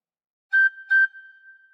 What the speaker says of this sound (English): For phrase 8, cover holes 1 to 2 with fingers 1 to 2 and blow a bit harder twice.